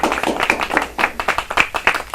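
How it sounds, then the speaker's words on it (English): A small group claps in uneven, separate bursts during a TV show segment on painting, close and fairly loud, with a few sharp claps standing out from the rest. "Any applause feeds my ego enough."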